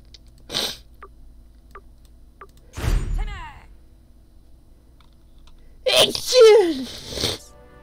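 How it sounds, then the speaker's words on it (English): A character sneezes in the video game South Park: The Stick of Truth. A big wet sneeze bursts out after a short gasp, followed by a loud groan, among sparse clicks. "Oh no, gotta sneeze."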